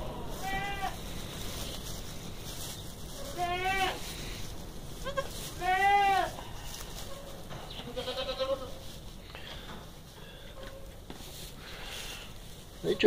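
Goats at kidding time bleat repeatedly nearby, several loud wavering calls spaced a few seconds apart, with some talking in between.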